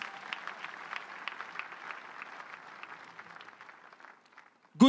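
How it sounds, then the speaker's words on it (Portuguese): A church congregation applauding together, a steady wash of clapping held at moderate distance that thins out and stops near the end, followed by a brief louder sound. "Vamos aplaudir a Jesus"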